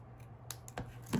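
Scissors trimming card paper for a handmade card: a few short, crisp snips spaced apart, faint and close, with no talking.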